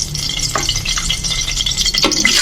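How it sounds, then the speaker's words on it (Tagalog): Pork kaldereta frying in hot, bubbling oil makes a steady loud sizzle. Utensil stirs and scrapes come through at a couple of points. "Pag idiretso natin sa mainit na ito, kumukulo itong mantika na to."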